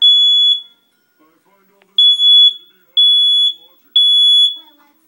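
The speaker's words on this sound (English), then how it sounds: "They have no idea an alarm is going off." A household smoke alarm beeps loudly in a room where children sleep, sounding one long piercing tone and then three more evenly spaced blasts about a second apart, with near silence in between.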